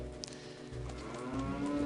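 A cow moos after a cow switch is struck in a modded Zelda: Ocarina of Time game, one long, loud, close bovine lowing call that swells and sustains with a rising tonal end.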